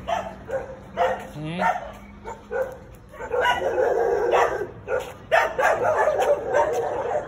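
Several wild dogs bark and yip in repeated bursts nearby in Lopburi, some whining between barks, while a person speaks briefly.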